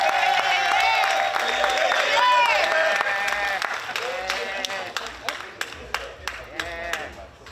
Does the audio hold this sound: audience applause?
yes